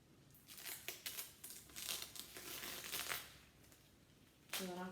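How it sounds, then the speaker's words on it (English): A dried layer of food coloring peels off a surface in a close, quiet series of crinkling, tearing crackles with uneven bursts, ending in a brief louder rustle. "I'm gonna go ahead and just peel it off so you can see what it looks like"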